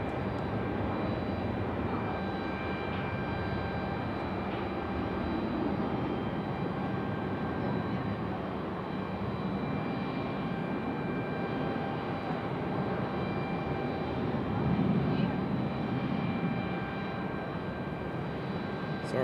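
Air Canada airliner engines idling on the runway while lining up at Raleigh Durham airport, a steady distant jet rumble and whine that runs throughout with a faint swell near the end.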